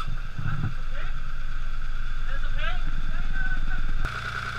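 A boat's engine runs after a repair that used a hammer and acid, a low, steady rumbling drone with gurgling water. A person talks over it, and the engine sound shifts abruptly near the end.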